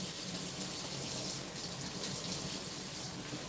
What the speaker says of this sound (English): Give it a little rinse.